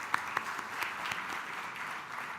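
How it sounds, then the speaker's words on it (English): Audience applause at a business event on Indian small firms and startups, a steady wash of many hands clapping in a hall, moderately loud with a few sharper claps standing out early. "Let us all give an applause for all the speakers."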